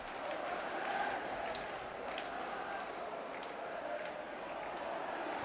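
Hearts football supporters fill a stadium with a distant, fairly faint and steady crowd roar of cheering and chanting, with no clear peaks.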